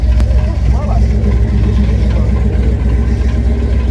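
A 7.6-litre 468 big-block V8 car engine idles loudly and steadily at a busy outdoor car show, with a deep rumble throughout and people talking nearby.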